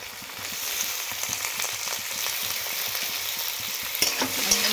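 Thinly sliced potatoes drop into a pan of hot oil with fried onion, giving a loud steady sizzle broken by scraping stirs and a few sharper spatters near the end.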